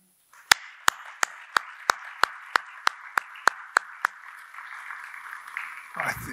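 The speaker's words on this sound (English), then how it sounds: "Only a small part of the applauding reached you, perhaps, because I'm closer to the mic." Applause at the end of a conference talk comes through as a run of about a dozen evenly spaced, crisp claps over a faint room hiss, fairly distant and thin before trailing off.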